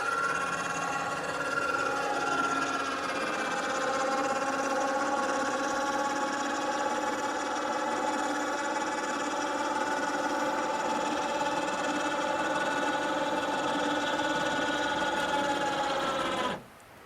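An electric motor raises a rooftop camper tent at a campground with a steady, close whirring hum that runs for about sixteen seconds and then stops abruptly.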